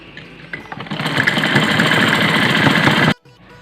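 An electric sewing machine running a continuous line of stitching through net curtain fabric, a close, loud, steady whirring hum that starts up, holds for a few seconds and stops sharply.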